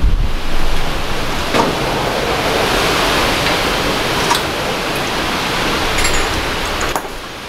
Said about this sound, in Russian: На улице у нас сегодня очень ветрено, поэтому в камеру иногда может звучать ветер очень сильно.